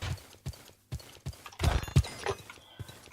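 Rhythmic clip-clop of horse hooves in Minecraft, several distinct thuds spaced about half a second apart, with a brief busier burst in the middle, close and clear with no talking.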